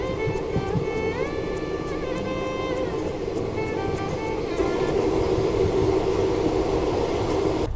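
Inside a moving passenger train running toward Bihar in southern India: steady rumbling wheel and carriage noise with a continuous hum and faint periodic clicks, no speech.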